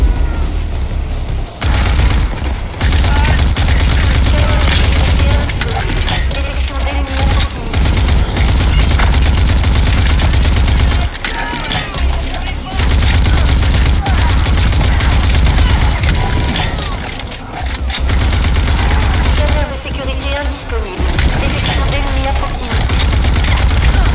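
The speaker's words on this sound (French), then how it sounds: "Ça, mais ça tire de partout." Gunfire erupts from all sides in the video game Rage 2, loud, dense volleys of automatic fire and heavy shots that come in long bursts, broken by a few short lulls, with a voice talking at times.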